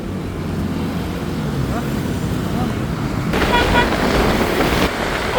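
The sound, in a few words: race cars accelerating at Kamisan Race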